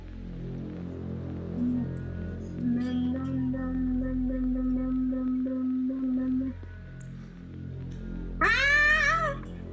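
A cat meows in the horror game Squid. Short, rising, wavering cries come mostly near the end and stand clearly above a steady droning game background with faint tones.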